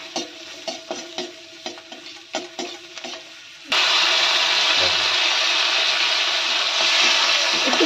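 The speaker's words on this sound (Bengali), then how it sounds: "এই বাটারে কটা রসুন কুচি দেবো, হালকা করে একটু ভেজে নেব" Chopped garlic and slit green chillies fry in butter in a pan, a steady loud sizzle that starts abruptly partway through, preceded by a few sharp clinks and stirring knocks.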